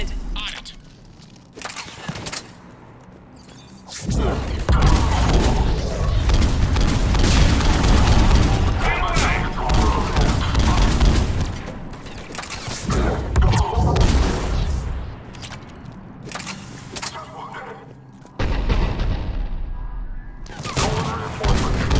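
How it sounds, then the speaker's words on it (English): Heavy booming cannon fire in the video game Mass Effect 3 rumbles in repeated blasts over a dense, noisy battle backdrop, loud and sustained with brief lulls. "The cannon fire is clearing the way."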